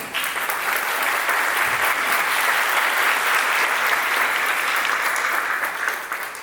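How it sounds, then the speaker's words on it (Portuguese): A lecture audience at a Senac talk breaks into sustained applause, many hands clapping at once in a dense, steady roar that holds for several seconds with no voices. "Uma salva de palmas."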